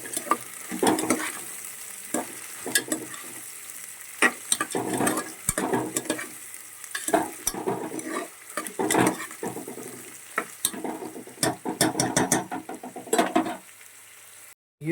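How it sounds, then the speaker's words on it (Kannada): Onions fry in ghee in a pan for masala ghee rice, a constant sizzle broken by repeated bursts of spatula stirring and scraping against the pan, loud and close, with no voices. "ಈರುಳ್ಳಿ ಸ್ವಲ್ಪ ಗೋಲ್ಡನ್ ಕಲರ್ ಬರೋ ತನಕ ಸ್ವಲ್ಪ ನೀಟಾಗಿ ಇದನ್ನು ಚೆನ್ನಾಗಿ ಫ್ರೈ ಮಾಡ್ಕೋಬೇಕು"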